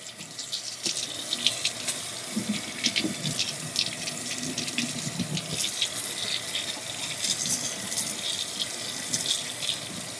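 A tap runs steadily into a sink while a vacuum cleaner filter is rinsed, a continuous hissing splash with small fluctuations, fairly close and without any voices.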